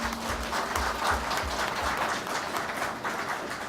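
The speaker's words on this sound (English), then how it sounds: "give a big round of applause to Professor Thorat," An audience at a lecture on inclusive growth applauds a visiting professor, a dense steady round of clapping sustained for several seconds without speech.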